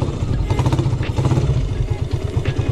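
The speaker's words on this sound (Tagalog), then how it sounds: "papainitin na natin ang ating mga motor" Motoposh Typhoon 150 motorcycle engines idle while warming up, a loud, steady, close-up throbbing putter with a regular pulsing rhythm and some mechanical clatter.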